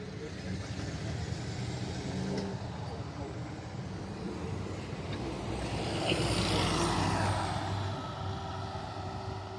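A bus pulls through a temporary bus interchange at Midland Station, its engine a steady mid-pitched drone that swells as it passes close, then eases off, over constant outdoor traffic noise.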